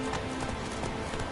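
Roach, the horse in The Witcher 3, gallops with quick, steady clip-clop hoofbeats over a dense game soundscape in one short, continuous stretch.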